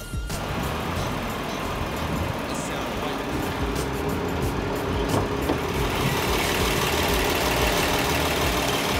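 A Volkswagen Atlas SUV's 3.6-liter V6 engine idles steadily with a low, rumbling hum under a faint background hiss; no clear speech is heard.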